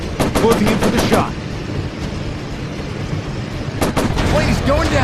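Aircraft machine guns fire in rapid bursts in the video game World of Warplanes, loud sharp rattles at the start and again near the end, with steady engine drone between.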